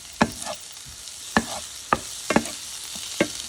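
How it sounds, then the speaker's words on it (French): Chopped onion cooks in leftover bacon lardon fat in a frying pan under a faint sizzle. Sharp spatula scrapes and taps come at irregular intervals, close and distinct. "je le fais cuire directement dans la graisse des lardons qui restent dans la poêle"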